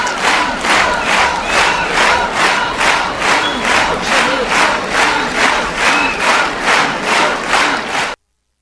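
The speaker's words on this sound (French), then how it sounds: "Vos acclamations encore une fois." A studio audience at a gospel television show chants and cheers in loud, rhythmic unison, the crowd's voices pulsing at a steady beat about twice per second, then cutting off abruptly.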